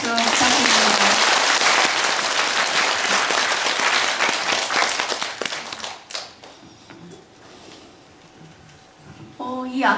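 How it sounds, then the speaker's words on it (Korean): Audience claps after an erhu performance at a book concert with stories and music, loud sustained applause for about six seconds that thins into scattered claps and quiet, with voices near the end. "다시 한번 큰 박수 부탁드립니다"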